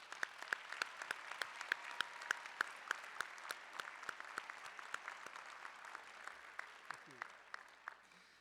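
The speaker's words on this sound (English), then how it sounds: "let's give a round of applause to Dr." Graduate commencement audience applauding at Stritch in a hall, steady, fairly faint clapping with distinct individual claps standing out, lasting the whole stretch before fading slightly.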